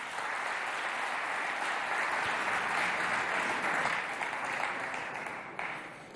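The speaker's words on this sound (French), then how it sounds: "On les applaudit bien fort" Audience at a school quiz match applauding the contestants: a steady, sustained wash of clapping from a crowd, evenly loud throughout and fading slightly at the end, with no talking on top.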